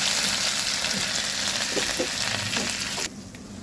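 Ginger garlic paste sizzling in hot oil, cooked for a steamed egg curry: a loud, dense, steady hiss of frying that cuts off abruptly near the end.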